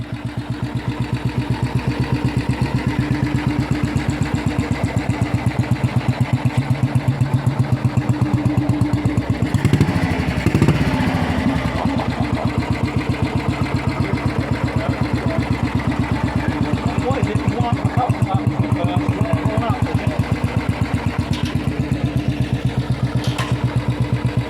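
Classic Norton Model 18 single-cylinder motorcycle engine running: a steady, rhythmic thumping idle, close and loud, continuing unbroken for about twenty-five seconds with a brief blip of added noise midway.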